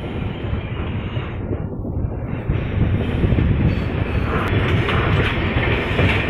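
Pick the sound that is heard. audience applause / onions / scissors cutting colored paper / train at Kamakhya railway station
train at Kamakhya railway station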